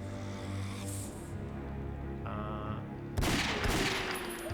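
Gunfire in the PS2 game Ghosthunter, a burst of game weapon shots over steady electronic background music and effects, with a louder blast near the end.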